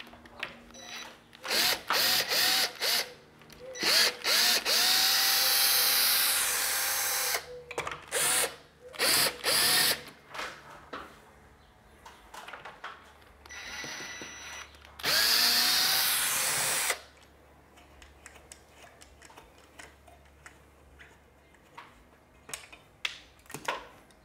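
A cordless power drill backs out 1/4-inch hex blind-mount screws in an office, whirring in several loud bursts of a few seconds each, with shorter starts and stops between and quieter handling noise after.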